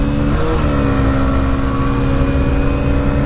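Hero Splendor Plus and TVS Raider 125 motorcycles racing side by side, a loud, steady engine drone with rising harmonic tones as they accelerate through the gears, close and continuous with no talk.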